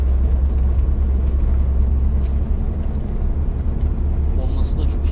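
A Scania truck with an open exhaust on the road between Samsun and Denizli gives off a deep, steady rumble that stays loud and continuous throughout.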